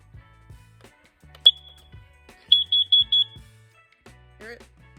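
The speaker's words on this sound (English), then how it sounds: "if there's carbon monoxide in your space, it will make a very loud, piercing sound." A portable carbon monoxide detector gives one sharp, piercing beep, then a rapid burst of four loud shrill chirps, with quiet handling noises and a voice nearby.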